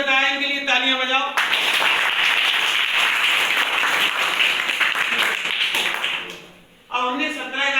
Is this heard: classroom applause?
yes